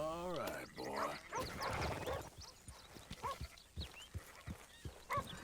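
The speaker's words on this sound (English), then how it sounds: "I'm hearing a dog out here." A dog barks in the Red Dead Redemption 2 video game, a few quick barks at moderate distance among farm-animal sounds and what seems to be horse hoof clops, with a voice partly over it.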